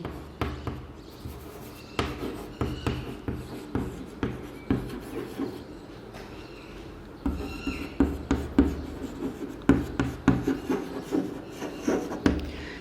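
A pen writing a letter on paper, close and dry, with short rhythmic scratching strokes in bursts, a pause in the middle and then quicker strokes, with no voice over it.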